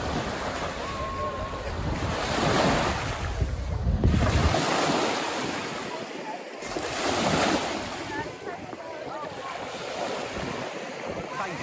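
Waves wash ashore and wind buffets the microphone on Playa de Muro beach in Alcudia, Mallorca, a steady roaring surf with swells rising and falling as someone walks along the sand.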